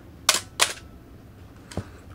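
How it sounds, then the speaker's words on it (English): A Canon AE-1 Program 35mm film camera fires its shutter at a quarter-second speed: two crisp mechanical clicks in quick succession, then a softer click a moment later, close up in a quiet room. "stop the lens down so we can watch the lens stopping down while I also actuate the shutter"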